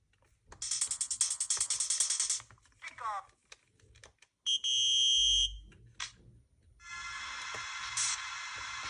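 Bursts of bright, fairly loud chiptune-style game sounds from a Hyperkin SupaBoy S handheld SNES after a chip replacement: a buzzy rapid tone, a few short bleeps, a steady two-tone blare, then another long buzzy tone.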